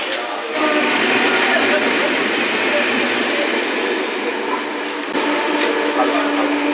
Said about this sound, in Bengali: সেই 3-4 নম্বরই আমাদের ঢুকে গেছে ট্রেন